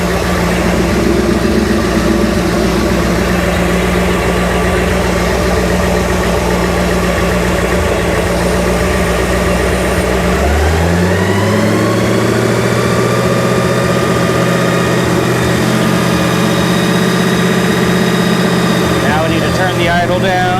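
A 1972 GMC 3500 wrecker engine runs near the microphone, first at a fast, high idle with a steady drone, then dropping midway to a lower, rumbling idle as the speed is turned down, with a voice talking over it.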